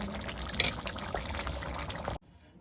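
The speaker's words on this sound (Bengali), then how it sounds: "এবার আমি নামিয়ে নেব, একটা পাত্রে ঢেলে নেব।" Cooked jackfruit and potato curry made with rohu fish head being poured from the pan into a bowl, a brief, soft wet sloshing and dribbling for about two seconds that stops abruptly.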